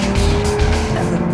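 A 2013 Audi R8 V10 Plus with Quattro drive and 550 bhp is driven hard on a cold, wet track, its engine roaring loudly and steadily up close with tire squeal mixed in.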